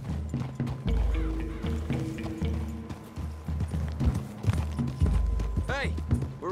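Horse hooves clip-clop in a steady, moderately close rhythm in the Red Dead Redemption 2 video game, with characters' dialogue heard over the hoofbeats.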